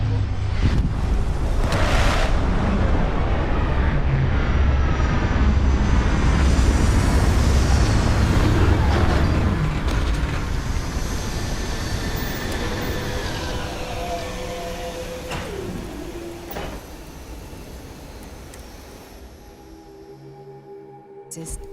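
A spaceship touches down on a rugged planet in the Starfield video game, a loud, broad roaring rumble with sweeping whooshes that gradually fades and settles toward the end.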